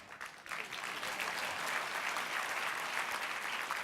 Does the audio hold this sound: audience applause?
yes